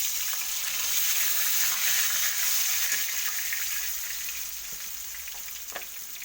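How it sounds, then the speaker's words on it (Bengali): Cut potatoes frying in mustard oil in a pan, a steady, close, bright sizzle that holds evenly throughout, with faint stirring clinks near the end and no talking. "আমি এখানে কিছুটা সরষের তেল দিয়ে দেবো, দিয়ে যে আলুগুলো যে কেটে রেখেছিলাম এর উপরে আগে আলুগুলো তুলে দেবো।"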